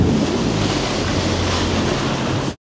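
Strong wind buffeting the microphone with rushing water and spray while riding a Sea-Doo, a loud, steady roar filling the whole clip before cutting off abruptly.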